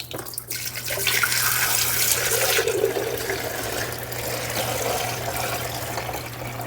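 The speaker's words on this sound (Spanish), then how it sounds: "Bueno, voy a cargar acá con agua." Tap water streams into a coffee maker's reservoir in a home kitchen, a steady close rushing flow over a low constant electrical hum.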